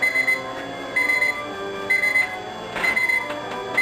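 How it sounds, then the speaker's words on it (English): A kitchen timer beeps loudly and close in repeated bursts of rapid electronic tones with short gaps, sounding alone in a kitchen while pies bake. "That's my timer going off"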